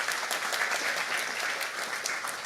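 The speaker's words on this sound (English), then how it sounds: "So give yourself a round of applause for being here." A short, steady burst of audience applause at a graduate student orientation, dense clapping from a crowd held at an even level throughout.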